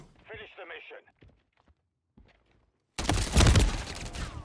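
Brief speech and faint clicks, then a sudden loud burst of rapid gunfire in the video game Call of Duty: Warzone 2 fills the last second and a half.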